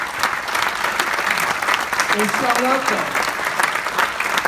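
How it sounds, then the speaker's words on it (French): Audience applause at a regional tennis league general assembly in Normandy, a steady wash of clapping filling the room throughout, with a voice speaking briefly over it. "Je vous demande, s'il vous plaît, de les applaudir."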